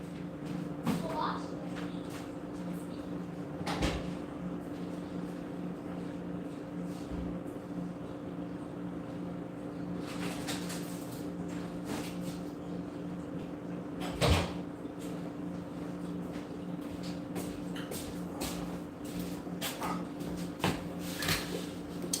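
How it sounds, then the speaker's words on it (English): An indoor door shuts with a couple of sharp, brief thuds over a steady low hum, with faint background sounds between the impacts. "Storm, close your door."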